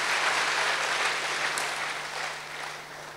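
A church congregation applauds during a sermon, producing a steady wash of clapping at moderate loudness that slowly fades over about three seconds.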